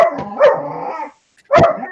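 A dog barks loudly and close by, giving a drawn-out, whining bark, then a pause and a second sharp bark.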